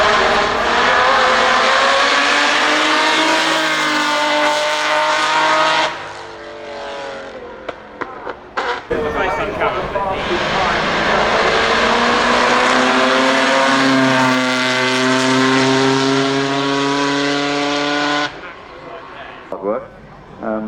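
A classic Ferrari race car at Goodwood Festival of Speed drives past with a loud, sustained engine roar that rises and falls, under commentary, then fades.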